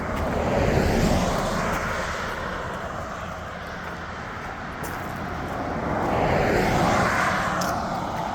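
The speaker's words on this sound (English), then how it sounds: "You can hear a fast moving vehicle coming behind us." A fast vehicle passes on a mountain road beside a hiking trail, a broad roaring rush that swells, eases and swells again over several seconds, heard outdoors at moderate distance with no talking.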